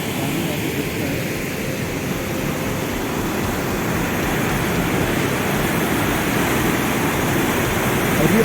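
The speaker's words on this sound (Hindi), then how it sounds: "ये वाटरफॉल है जो जाके इसका पानी लेक में जाता है।" Steady roar of a waterfall feeding Madhuri Lake in Arunachal Pradesh, a dense, even wash of rushing water that holds constant throughout and swells slightly louder toward the end, with no voices over it.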